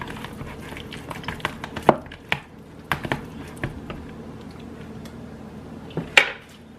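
Guacamole being mixed in a bowl, with irregular wet squishes and scattered clinks of a utensil against the bowl, close and fairly quiet.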